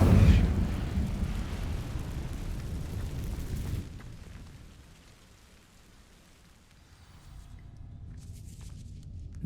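Incendio fire spell igniting dry vines in Hogwarts Legacy: a loud crackling whoosh of flame bursts up, holds for a few seconds, then dies to a soft low rumble before a faint crackle returns.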